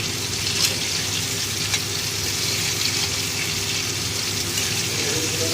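Tomato sizzling in hot oil in a pan as it is stirred, a steady loud frying hiss throughout with faint scraping, no voices.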